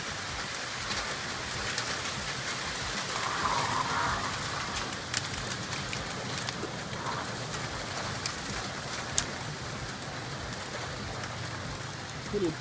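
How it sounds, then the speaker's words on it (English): Pea-size hail and rain fall outside beside a garden, a dense, steady hiss of drops striking surfaces with occasional sharper ticks, close and continuous without talk. "Hailing out."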